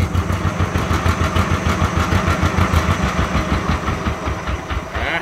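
A used small Yanmar or Kubota single-cylinder farm diesel engine chugs steadily with a rapid, even knocking pulse, running loud and close for the whole stretch without any talking.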